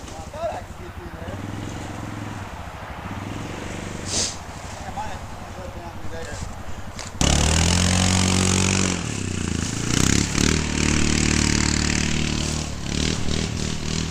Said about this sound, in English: See if we can get the four-wheeler through here.